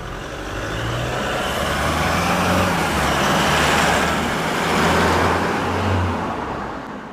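Stock muffler on a Toyota Hilux GUN125 at low engine speed produces a steady low exhaust rumble with gentle swells, even and fairly close throughout, with no talking.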